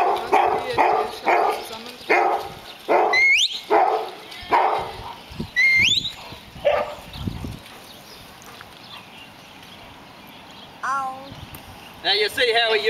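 A sheep-herding dog barks repeatedly in loud, rhythmic bursts, joined by high whistles, with a person speaking and a quieter stretch before the barking and whistling resume.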